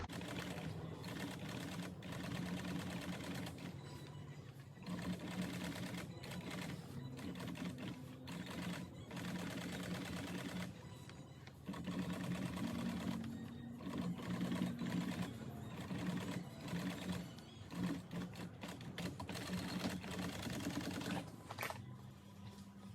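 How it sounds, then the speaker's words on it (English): A sewing machine stitches a custom carpet kit for a Bel-Air, running in long rapid clattering bursts separated by short pauses, fairly quiet and without talk. "So we're going to get this sewn on here"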